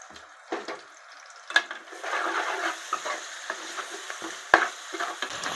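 Ginger added to frying onions in a pan, with uneven sizzling that swells after a couple of seconds, punctuated by sharp spoon clinks and scraping stirs up close.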